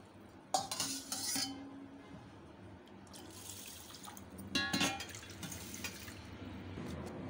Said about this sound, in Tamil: அதே டம்ளர்லேயே வந்து நான் 6 டம்ளர் தண்ணி சேர்த்துக்கிறேன்